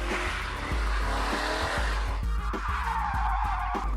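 A stunt car's tires squeal and skid right beside a camera operator on a film set, close and loud over a revving engine. The screech holds for several seconds before changing pitch near the end.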